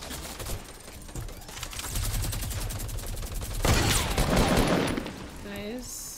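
Bursts of rapid gunfire from a Fortnite Battle Royale match crackle loudly through the first half, building into a denser, louder volley before fading, with brief talk from players in the squad mixed in.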